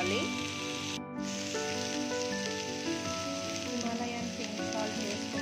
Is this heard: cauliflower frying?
yes